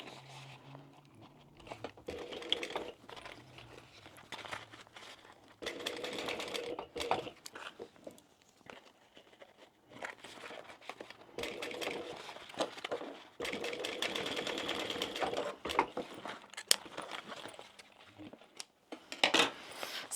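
A sewing machine top stitches a small crossbody bag in several loud bursts of rapid mechanical chattering, broken by short pauses and handling clatter at close range.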